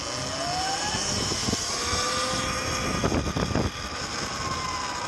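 A 2025 Surron Ultra Bee electric dirt bike rides along with a high whining motor tone that rises and falls, wind rush and a few clattering bumps mid-ride, no talking.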